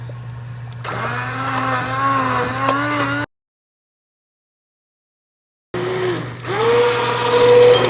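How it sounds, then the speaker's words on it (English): A motorized immersion blender pureeing butternut squash soup whirs loudly and steadily, its pitch wavering as it works, then cuts out for a few seconds before starting up again. "Now I'm going to grab my immersion blender and I'm going to pulverize the soup."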